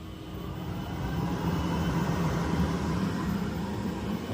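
A Glowforge laser's exhaust vent fan runs with a steady, broad rushing roar like a small jet engine. It is close and fairly loud and builds slightly in the first second, with no talk.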